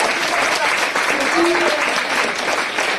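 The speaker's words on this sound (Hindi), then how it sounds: "हमारे म्यूजिशियंस के लिए भी एक बार जोरदार तालियां दीजिए" Dense, steady applause from a large talent-show audience for the musicians after a ghazal performance fills the whole stretch, with a faint tone or voice briefly rising beneath the clapping.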